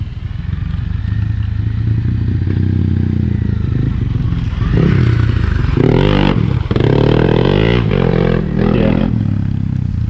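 Honda CRF250L Rally motorcycle with tubeless-insert tyres climbing a rutted uphill corkscrew trail, engine loud and close throughout, revving harder from mid-clip with rising, surging throttle bursts and some scraping clatter, no talk.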